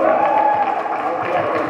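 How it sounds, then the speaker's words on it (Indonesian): Steady crowd applause with cheering voices for a group of jury candidates at an event in Banten, dense and sustained at even loudness for a couple of seconds. "Berikan tepuk tangan yang meriah untuk Kalimaya Banten"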